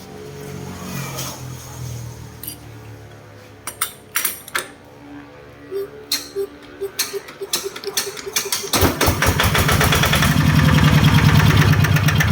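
A small 15.5-horsepower diesel engine ticks and clatters irregularly at first, then settles into a loud, steady close-up chugging idle for the final few seconds.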